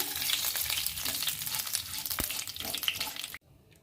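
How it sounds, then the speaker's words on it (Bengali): Two bay leaves and a little black cumin sizzle loudly in hot oil, a dense close crackle that stops abruptly near the end, with no voice present. "তেল ভালো করে গরম করে এর মধ্যে দুটো তেজপাতা দিয়ে দিলাম, আর সামান্য কালো জিরা দিয়ে দিলাম"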